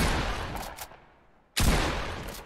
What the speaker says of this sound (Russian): Делаем выстрел.